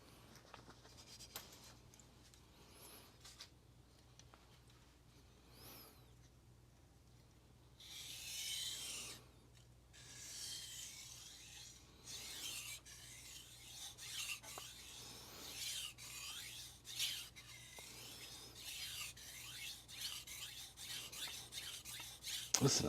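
A Shirogami 2 carbon-steel santoku is sharpened on a sintered ruby 3k whetstone, with steady rasping strokes rubbing back and forth and growing louder toward the end; no talking.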